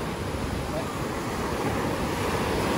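Ocean surf rolls in at high tide on the beach at Sanibel Island, Florida, a loud continuous wash roughened by wind buffeting the microphone.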